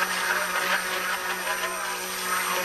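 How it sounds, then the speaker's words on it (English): An old stick blender whirs steadily through cold-process guava soap batter, a loud continuous motor drone with a constant hum, running without pause or talk. "Here's my old stick blender."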